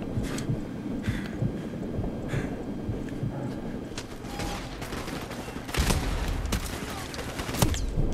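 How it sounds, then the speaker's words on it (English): Gunfire in Call of Duty 4 Remastered, irregular bursts and single shots from several directions over a steady background rumble, some shots close and loud, others more distant. "we're getting shot from all around"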